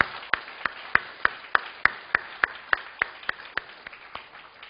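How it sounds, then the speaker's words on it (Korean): A church congregation claps in steady unison, about three even beats per second, faint and unbroken, in honour of elderly members during a Sunday service. "이분들에게 한번 뜨거운 박수 한번 드려드릴게요"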